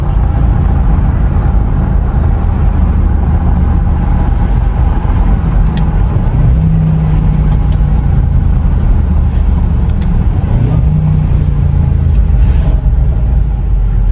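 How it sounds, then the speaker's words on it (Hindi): A supercharged V8 car engine rumbles steadily up close and swells into revs, with a deep low-end drone; no voices over it. "इसमें पॉप्स एंड क्रैक्स सब कुछ आती है। तो ये है V8 सुपर चार्ज इंजन"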